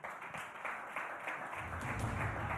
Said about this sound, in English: Big round of applause, ladies and gentlemen, for Virat Kohli and Jasprit Bumrah.